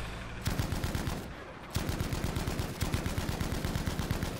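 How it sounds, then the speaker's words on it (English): Anti-aircraft gun firing in Battlefield V, a steady rapid rhythm of heavy booming shots in repeated bursts, loud and close, with a short pause near the start. "Back on my AA gun. Nice! I hit it with a couple of rounds."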